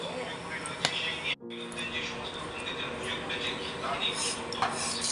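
Whole spices (a bay leaf, cinnamon, a few peppercorns, two cardamom pods and three or four cloves) are stirred in a pan for an egg and potato dum, with soft metallic scrapes and clinks under steady background noise.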